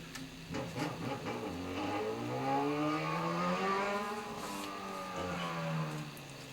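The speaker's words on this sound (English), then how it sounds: "so that motorcycle goes away. Motorcycle this late at night." A motorcycle passes by outside late at night, its engine note rising and falling in a steady drone that swells toward the middle and fades, heard through a quiet room with no talk.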